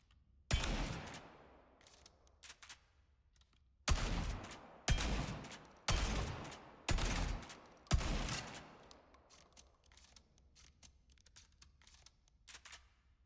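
An M17 Bouncer shotgun fires in the Spectre Divide video game, sounding as sharp, loud booming blasts, one alone and then a quick run of four or five evenly spaced, each trailing off, with faint clicks between.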